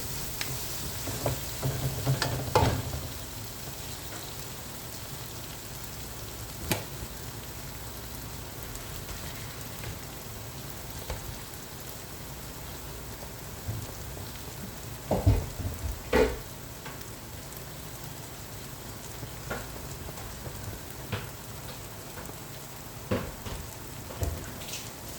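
Tomatoes cooking in oil in a pan for a quick chicken gravy give a steady, soft sizzle with faint crackles, plus a few louder clinks and scrapes as they are stirred.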